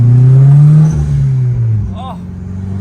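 A turbocharged 1992 VW Golf GTI Mk2 16-valve engine drones loudly from inside the cabin, its pitch shifting as it revs, with a person's voice briefly heard over it.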